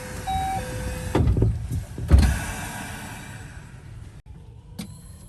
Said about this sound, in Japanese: 閉まるドアにご注意ください